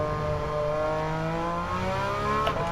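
Car engine in Gran Turismo 7 held at full throttle, the pedal floored and stuck, giving a steady, loud high-pitched drone with rising harmonics, slightly climbing in pitch over a few seconds.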